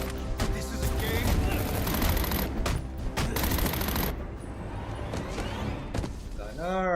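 Dense, loud bursts of automatic gunfire from gunners in Batman: Arkham Origins rattle almost without pause, punctuated by brief gaps and heavy impacts, with a warbling electronic effect near the end and voices mixed into the din.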